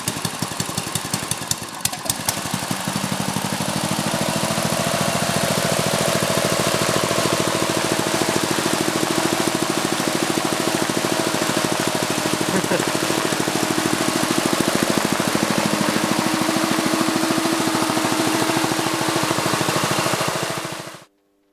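A small gasoline engine fitted to a bike sputters through a few uneven pulses, catches, then runs loudly and steadily at a rough, buzzing idle before cutting off abruptly.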